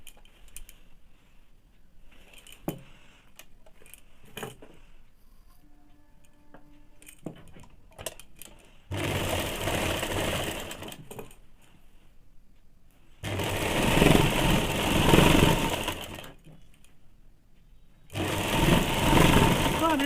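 A sewing machine runs in three loud bursts of rapid stitching while double-stitching salwar panels, with quieter clicks and handling noises between runs and someone speaking softly in the pauses.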